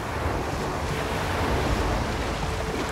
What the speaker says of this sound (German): Die Welle kommt ab.